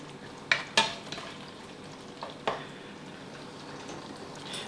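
Tomato spaghetti sauce with minced pork and sausage is stir-fried in a pan. Soft, low sizzling runs under a few sharp scrapes and clacks of a utensil against the pan, quiet and close.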